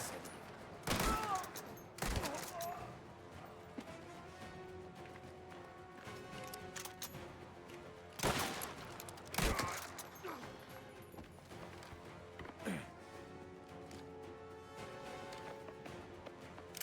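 Gunfire in a mafia video game shootout: several sharp, loud shots and short bursts crack out at irregular intervals over a quieter background.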